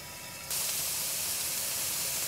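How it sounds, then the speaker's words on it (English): Pork loin hits a hot pan and starts sizzling, a sudden bright hiss that begins abruptly and carries on steadily, soft and close. "Hear that sizzle? That's what you want."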